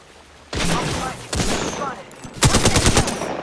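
Video game gunfire in rapid automatic bursts, loud and close, three separate volleys with short gaps, the last burst the heaviest; game voices are faintly present.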